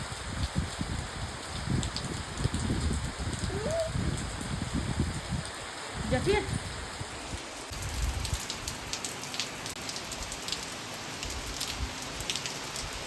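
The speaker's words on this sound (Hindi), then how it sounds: "अभी मूसलाधार वाली बारिश आने लगी है" Heavy torrential rain pours down over open farm fields, a dense, steady roar of drops hitting the ground and surfaces throughout, with a faint bird call and a brief voice buried in the downpour.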